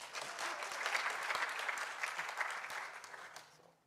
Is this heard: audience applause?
yes